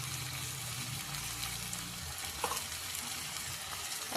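Turmeric and chilli powder frying in a pan, a soft continuous sizzle and hiss with a brief stirring knock midway, quiet and fairly even throughout.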